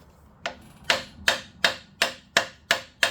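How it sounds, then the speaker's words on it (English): A peening hammer strikes metal eight times in a steady, even rhythm, each blow sharp and ringing, with no voices. "Where's your peening hammer?"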